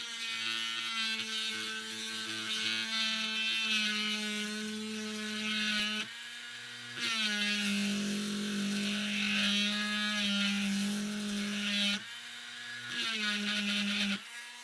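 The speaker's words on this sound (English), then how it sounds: "I'm now going to use my Dremel 4300, which is a mains operated Dremel, and I'm using the flex lead on it" A mains-operated Dremel 4300 rotary tool on a flex lead drills a hole at mid power, giving a steady high-pitched whine that stops briefly twice and restarts at close range.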